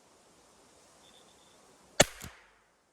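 A single sharp shot from a used Safari 420 air rifle cracks out after quiet, followed quickly by a fainter secondary impact, close and loud.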